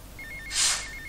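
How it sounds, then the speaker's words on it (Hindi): A telephone rings in the video game GTA Vice City, a short electronic trill repeating in quick pulses at moderate volume, with a brief burst of hissing noise in the middle and no talking. "कौन किसका फोन आ गया अब"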